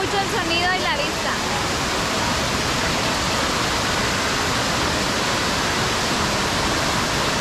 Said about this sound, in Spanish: Unas escaleras convertidas en cascadas.